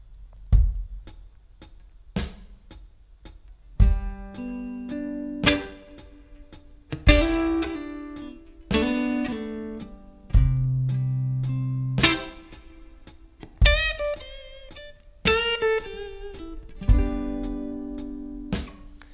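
Guitar playing the chords of a song with lead licks woven in, moderately loud and close, with strummed chords in a steady slow rhythm broken up by short melodic runs and with no talking.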